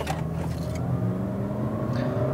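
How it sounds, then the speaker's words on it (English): 2018 Toyota RAV4 Adventure accelerating hard with the pedal floored toward highway speed, a steady engine drone and road roar heard from inside the cabin, with no talking. "my foot is to the floor here. We're trying to get up to highway speeds."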